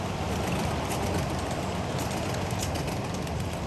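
A 7.5-inch gauge model steam train rolls past on a miniature railroad, a continuous dense rumble of wheels and cars holding close and loud from start to finish.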